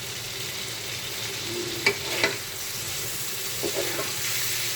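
Foli fish sizzling in a pan of cooked-down spice paste, a steady close frying hiss with a few light clinks of a spoon stirring.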